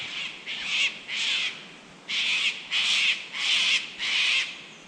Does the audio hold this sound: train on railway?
no